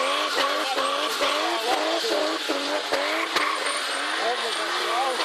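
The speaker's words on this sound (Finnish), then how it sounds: "Kuunnelkaa kuinka hyvin moottori on säädetty." A tuned BMW engine howls and revs at a BMW enthusiast event, with rapid repeated rev rises, tyre squeal and chirps breaking through, loud and close with voices mixed in.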